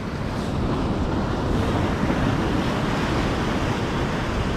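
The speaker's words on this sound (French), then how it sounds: "il y a des vagues là de ouf là" Loud sea waves surge and wash continuously onto the beach during surf fishing for sea bream from the shore, a dense roar mixed with wind buffeting the microphone, with no voices.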